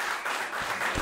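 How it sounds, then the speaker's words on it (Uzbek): Audience applause at a live Uzbek stage show, a dense continuous patter of many hands clapping at steady loudness for about a second, with no voices over it. "Olqishlab qo'yamiz."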